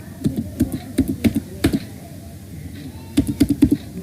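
Typing a password on a computer keyboard for Tally Prime: two clusters of sharp, close key taps with a quiet gap between them, over a faint background hum.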